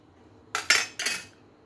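A knife cuts slits into a bombil fish, producing three short, crisp strokes in quick succession, each a brief bright scrape that fades quickly, alone in a quiet kitchen.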